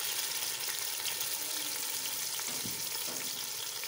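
Beef kabab pulao masala fries in a pan as tomato paste goes in, giving a close, steady loud sizzle with a brief wet plop near the end and no talking.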